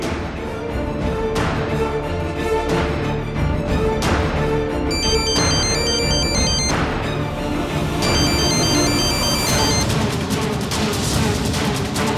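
A phone ringtone plays continuously and loudly, a repeating electronic melody with bright chiming tones and a steady beat, filling the whole stretch without any voices.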